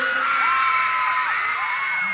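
At a fan event for the group Cloud 7 in an SM City mall, a crowd of fans keeps up loud, high-pitched screaming and cheering, a dense, continuous wall of shrieks.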